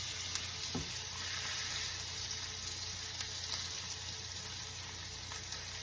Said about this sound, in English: So sit there and fry for a little bit.